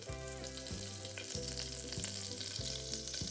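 Curry leaves with fenugreek seeds fry in hot oil, a loud, steady sizzle with rhythmic scraping strokes of a spoon stirring the pan every half second or so.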